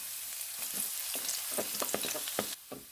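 Chopped garlic frying in hot oil in a pan, a steady close sizzle with crackling pops and a few stirring scrapes, no talking.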